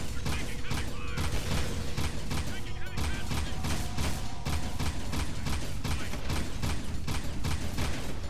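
Rapid gunfire from a Jak II shooter level, bursts of shots repeating steadily and loud over a dense bed of game effects and music, with no pause across the stretch.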